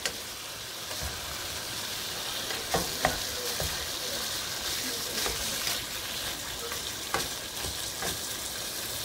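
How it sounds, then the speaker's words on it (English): Ground beef browning in a pan for a hamburger pie, a steady close sizzle and crackle with occasional stirring scrapes, running continuously without talk. "I'm not going to make y'all sit here and watch this meat cook"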